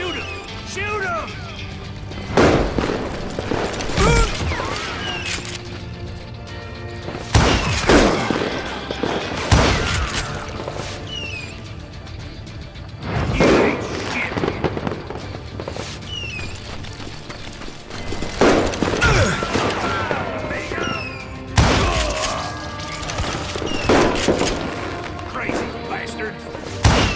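Gunfire in Call of Juarez: Gunslinger, sharp loud shots in bursts and repeated volleys across the scene, mixed with hoofbeats, crashes and shouting voices.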